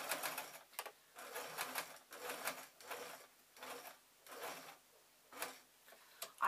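Sewing machine stitching a Poundland easy sew tote bag with a printed transfer, running in short repeated bursts of rapid needle chatter separated by brief pauses, near but quiet.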